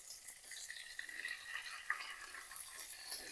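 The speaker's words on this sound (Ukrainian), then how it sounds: "Пательня розігрілась, спочатку додаю філе." Chicken fillet sizzles in a preheated frying pan, a soft, steady hiss with faint crackles and an occasional small clink, quiet and continuous with no talking.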